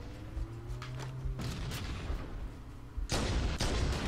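In a Halo multiplayer match, a grenade blast and bursts of gunfire sound in sharp, loud cracks against a steady background rumble, with two heavy impacts standing out near the end.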